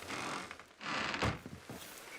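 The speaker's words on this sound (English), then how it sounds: "At the moment, you can only hear rain" Rain falling steadily outside, a faint broad hiss rising and easing in waves, with no voices over it.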